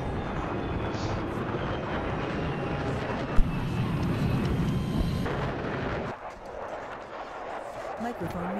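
Attack jet in Battlefield 4 on Operation Mortar: a loud, close, broadband jet roar mixed with explosive booms that drops off sharply near the end, leaving quieter rumbling.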